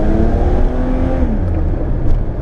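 A 1990 Nissan Skyline automatic accelerating under a firm throttle, its engine note rising steadily and loud from close by, with no talk over it.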